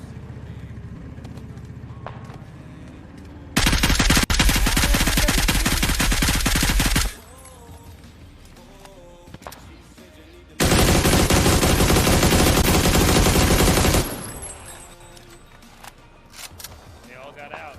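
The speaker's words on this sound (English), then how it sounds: "I'm getting sniped at by a suppressor SLR." A suppressed SLR rifle fires in the PUBG video game, with two long stretches of rapid, loud, dense shots of about three seconds each, separated by quieter game ambience and faint talk.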